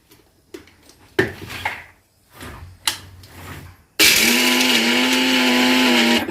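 A mixer grinder starts abruptly and grinds a thin liquid batter in a loud, steady whirring drone after a few seconds of clinking kitchen sounds and handling noises.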